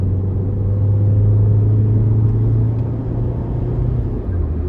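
2006 Nissan Sentra 1.8S Special Edition engine pulling steadily under acceleration, a loud, close, low droning rumble that holds its pitch, with no talk over it.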